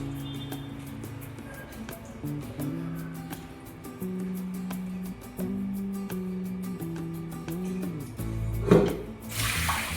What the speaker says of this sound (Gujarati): હવે આ માખણને છે ને ધોઈ નાખવાનું છે